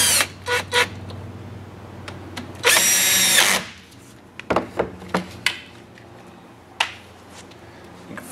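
Power drill whirring briefly as it drives screws into a wooden dowel, one sustained burst amid light clicks and handling noises, close and fairly quiet.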